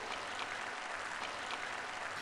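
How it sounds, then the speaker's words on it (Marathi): Applause from a live audience at a sermon, a steady dense clatter of many clapping hands held at an even level throughout, with no talk over it. "तुम्ही टाळ्या वाजवायलाच हव्यात कारण मी यावरच बोलणार आहे."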